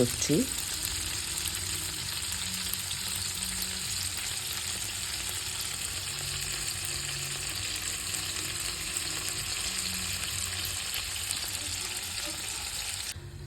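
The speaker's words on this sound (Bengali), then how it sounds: "বাগদা চিংড়িটা হালকা ভেজে নেবে" Tiger prawns fry lightly in oil in a pan, a steady close sizzle that runs unbroken throughout after a brief clatter at the start.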